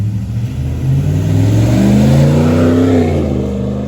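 A Ram 1500 pickup fitted with a Series 44 muffler revs outdoors, its exhaust rising in a loud, deep roar that climbs and holds before easing off, close by with no talking.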